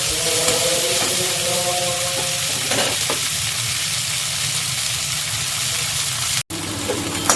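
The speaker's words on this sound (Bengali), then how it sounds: "কাঁচা কলাটা ভাজা হয়ে যাচ্ছে" Pieces of raw green banana fry in oil in a pan, a loud, steady close-up sizzle with faint stirring scrapes and a short break near the end.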